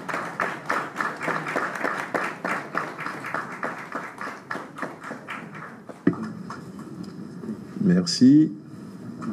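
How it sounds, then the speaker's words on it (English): Rhythmic audience clapping at a symposium opening ceremony honoring a doctor receiving a merit award, steady beats for about six seconds, then quieter room noise with a brief voice and thanks. "que je vous demande d'applaudir"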